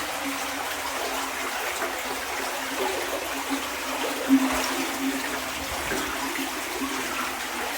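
Rushing stream water on a salamander hike flows as a steady, fairly loud broadband wash throughout, with a small splash or knock near the middle.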